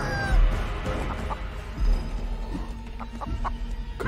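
Chickens cluck and squawk in the horror video game Chicken Feet, with a few short bursts over low rumbling game ambience and impact noises.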